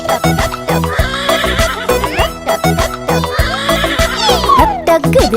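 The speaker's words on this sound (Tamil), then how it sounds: "டக் டக் குதிரை செல் செல் செல் கனைக்கும் குதிரை செல் செல் செல்" A horse whinnies twice over steady clip-clopping hooves, loud and rhythmic, set within a bouncy Tamil children's song with music throughout.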